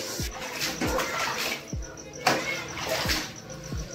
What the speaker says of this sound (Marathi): स्वच्छ घास, स्वच्छ घासतोय ताई